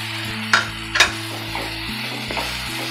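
Cooked rice being mixed into a tomato mixture in a pan for tomato rice, with a few scraping stirs and soft sizzles over a steady low hum.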